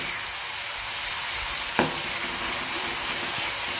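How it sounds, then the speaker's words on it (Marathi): Leftover masala with cumin roasts in hot oil in a pan for stuffed brinjal, making a loud, close, continuous sizzle and crackle with one brief clack of a utensil midway and no voices. "हा मसाला आपण छान असा भाजून घेऊयात"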